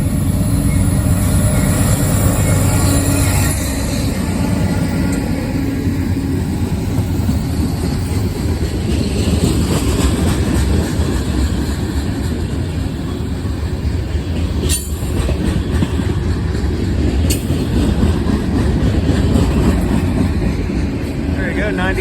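A mixed freight train rolls past with a Dash 9 locomotive trailing, a loud, steady close rumble of railcars and wheels with occasional squeal and clatter throughout.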